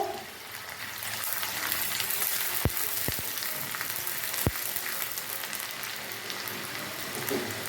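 Chopped onions fry in a pan for chicken bhuna, giving a steady close sizzle, a soft rain-like hiss punctuated by a few sharp clicks of a stirring spoon.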